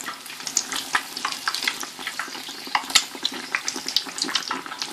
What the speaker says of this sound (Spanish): Vamos a ir friéndolas despacito todas.